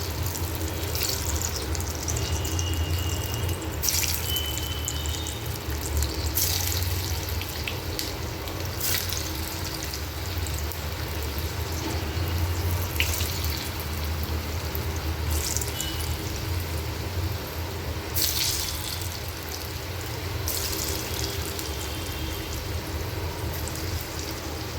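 Allu wadi fry in hot oil in a kadai, a steady close bubbling hiss that runs continuously with a few brighter bursts of spatter, no voices over it.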